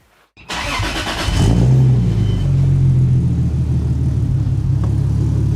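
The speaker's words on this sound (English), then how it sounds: "Give it a start." A Lexus SC300 with a 2JZ engine cranks briefly and catches, then settles into a loud, deep, slightly uneven idle rumble close by for several seconds.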